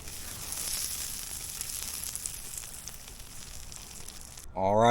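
Jalapeno poppers sizzle on a hot grill with a steady, moderate crackle and hiss; near the end a voice cuts in.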